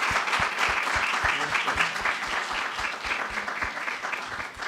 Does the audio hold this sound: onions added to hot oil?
no